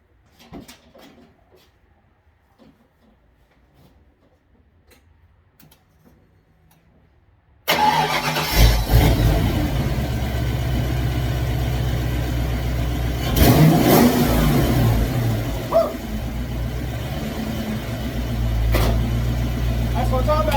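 A 1993 Ford Mustang Cobra that last ran 26 years ago fires up after near silence with faint handling noises, then idles loudly and revs in a couple of swells, close by and alone.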